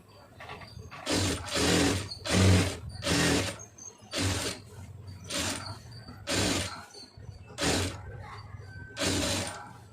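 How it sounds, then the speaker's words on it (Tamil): A sewing machine stitching around a blouse neckline runs in repeated short bursts of rapid mechanical whirring, with brief pauses between runs, close and loud, with no voices. "இப்போ அதை சுற்றி ஒரு படிமான தையல் போட்டுப்போம்"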